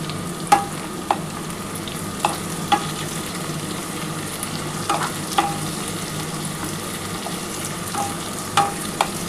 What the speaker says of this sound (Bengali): খুব ভালো করে পেঁয়াজটা একটু ভাজতে হবে।